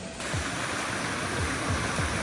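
Steady broadband rush of falling water, constant and fairly loud throughout, from the nearby Bhavanikada waterfall at Kharpada, Pen, with no voices.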